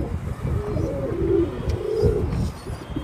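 Pigeons cooing in soft, low repeated calls against steady outdoor background noise, with a few birds flying overhead.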